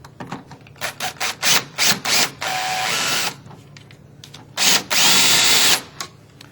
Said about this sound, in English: and go ahead and secure it with screws.